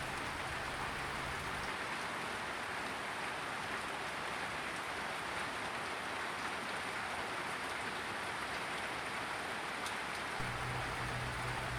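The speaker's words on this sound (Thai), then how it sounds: "ตอนนี้ฝนกำลังตก" Rain falls steadily outdoors as a soft, even hiss of drops that stays constant throughout and sounds fairly quiet and distant, with no talking.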